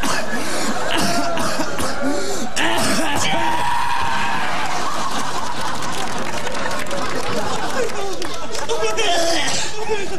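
Repeated coughing rings out loudly amid a dense, chaotic din of overlapping voices and chatter.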